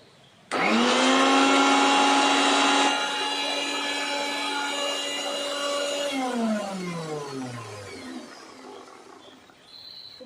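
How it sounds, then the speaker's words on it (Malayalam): A kitchen mixer grinder (mixie) beats egg for homemade egg-yolk mayonnaise: the motor starts abruptly into a loud, steady high whine, holds for several seconds, then slows and winds down with a falling pitch near the end. "ഈ മുട്ട ആദ്യം ഒന്ന് നന്നായിട്ടൊന്ന് മിക്സിയിലിട്ട് നന്നായിട്ടൊന്ന് അടിച്ചെടുക്കണം"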